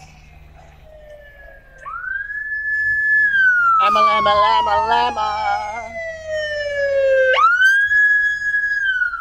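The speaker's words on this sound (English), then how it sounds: "Ambulance coming." A loud ambulance siren wails in long rising and falling sweeps as it passes, growing closer and fading slightly, with a person chanting a repeated nonsense phrase over it.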